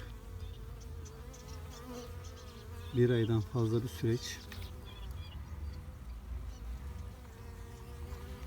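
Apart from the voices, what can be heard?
bees buzzing at a queen-rearing hive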